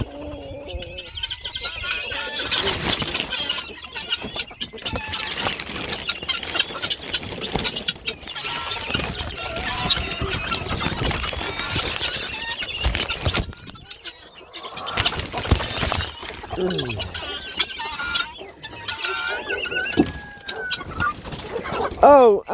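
A flock of Black Marans chickens and roosters in a homestead coop, with steady clucking and bird calls through most of the stretch, a brief quieter gap midway, and occasional crowing near the end.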